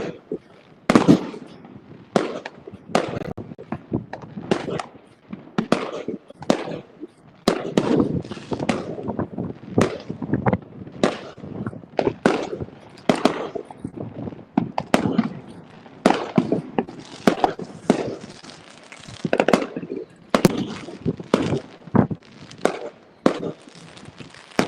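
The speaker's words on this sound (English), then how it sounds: "I say they're not cheap, are they, fireworks?" New Year fireworks over Spain burst and crackle in a long, irregular barrage, loud sharp bangs following each other every second or so, some near and some farther off, with faint voices now and then beneath them.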